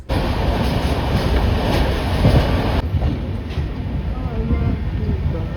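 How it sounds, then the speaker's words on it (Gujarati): A train rumbles steadily along the rails with rhythmic clacking, heard from inside a carriage, loud and continuous with faint voices underneath. "ટ્રેન આપણી આવી ગઈ છે અને ટ્રેનમાં બેસી ગયા છે"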